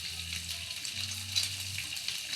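Bacon frying in a pan gives a steady, close sizzle with soft crackles over a low, even hum.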